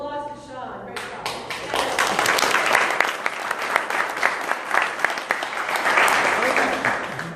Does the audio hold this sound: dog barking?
no